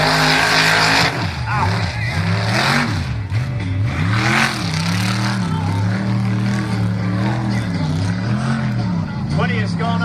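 Mega truck engine revving hard in the shallow side of a mud pit at a freestyle event, loud and continuous with rising and falling throttle swells, while crowd noise and a commentator's voice run underneath.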